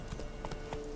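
Roach, a horse in The Witcher 3, gallops with a quick, rhythmic clip-clop of hooves, steady and moderately close, over a faint, constant tonal hum.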